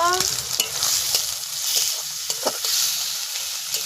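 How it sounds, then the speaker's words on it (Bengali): Onion, ginger-garlic paste, slit green chillies and chopped tomato fry in a pan for a village-style chicken curry, giving a steady close sizzle broken by a few scrapes of a stirring spoon. "আমি পেঁয়াজ আর আদা রসুন বাটাটাকে একটু লাল লাল করে ভেজে নেব"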